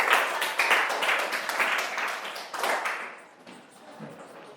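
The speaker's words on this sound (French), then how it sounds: "Applaudissez pour Keza." A class of pupils claps during a French grammar lesson, a burst of quick, close, dense hand claps that fades after about three seconds into quieter room sound.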